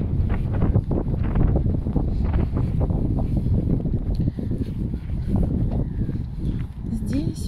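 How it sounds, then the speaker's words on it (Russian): Strong wind gusts off a river in Pärnu, Estonia, buffeting the microphone in a loud, continuous rumble while a person talks over it. "Только ветер сильный с этой с речки."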